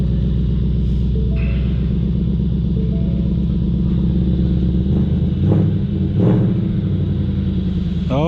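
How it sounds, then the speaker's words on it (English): A deep, throaty V8 exhaust rumble from a 2021 Ford Mustang Mach 1 idling close by, steady and loud with a couple of brief revs toward the end. "Oh yeah, just hear that exhaust, my friends."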